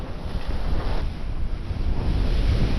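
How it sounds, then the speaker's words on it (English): Strong 50 mph wind gusts roar across a frozen lake during an ice fishing outing, a loud, continuous buffeting rush with heavy low rumble against the microphone throughout, rising and falling slightly with no voices. "began my battle with the 50-mile-an-hour gusts that were present on this day."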